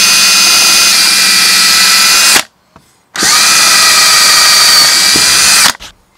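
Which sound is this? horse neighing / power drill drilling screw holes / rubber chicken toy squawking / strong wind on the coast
power drill drilling screw holes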